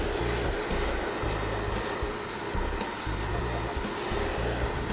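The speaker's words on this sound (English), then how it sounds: "following the blow dryer with my brush" A hair dryer blows in a steady close whoosh while hair is brushed, its low airflow rumble pulsing irregularly as the brush passes through.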